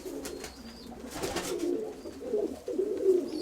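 Pigeons coo repeatedly in a loft with an older hen among them, low throaty calls rising and falling close by in a continuous, overlapping chorus.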